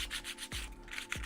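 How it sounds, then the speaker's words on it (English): Sanding stick rubbing back and forth over the plastic edges of a small model minecart, a steady close scratchy rasp in repeated strokes. "I will be sanding up some of that"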